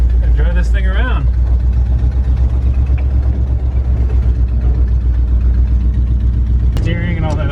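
A 1961 Ford F250 truck engine rumbles steadily from inside the cab at a low, continuous drone, with bits of talk heard over it.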